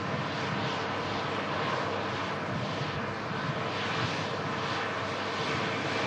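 Air France airliner in the colourful Smarties livery taxiing past at an airport, a steady broadband engine roar that holds close and even throughout with no voices.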